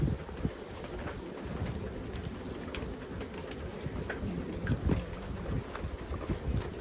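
Steady rain patters outdoors with scattered drops and a gusty, wind-buffeted hiss throughout, no talking.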